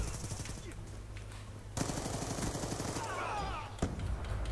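Rapid automatic gunfire rattles in Black Ops 2 on the Dig map, with sustained bursts and sharp shots in a busy multiplayer match, while a player speaks Dutch briefly over it.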